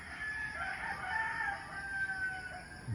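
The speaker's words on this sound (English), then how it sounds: "Do you hear all the roosters?" Several roosters crow at an early morning hour in the Philippines, their long overlapping calls carrying steadily from a moderate distance over a faint background hum.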